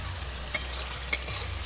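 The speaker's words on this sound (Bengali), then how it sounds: "ওই তো মাছ ভাজা হচ্ছে।" Shrimp frying in a pan give a soft, steady sizzle, with a few faint clinks of a utensil against the pan.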